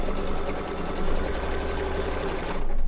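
Embroidery machine running a tack down stitch on fabric, a steady, rapid mechanical needle chatter held close and loud, stopping abruptly near the end.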